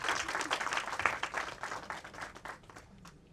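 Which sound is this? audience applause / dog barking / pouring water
audience applause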